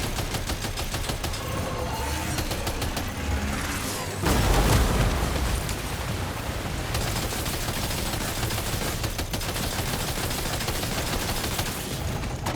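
Gunfire aimed at a glowing target in a Death Stranding 2 boss fight: rapid repeated shots in steady bursts, with a heavier booming impact near the middle and continuous loud action around it.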